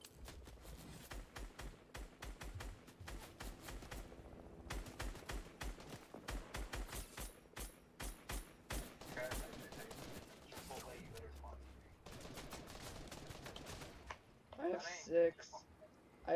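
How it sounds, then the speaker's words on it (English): Gunfire in the video game Fortnite rattles out in long rapid automatic bursts with brief gaps between them, loud and dense, ending with a few scattered sharper effects. "Oh yeah, I am getting shot at."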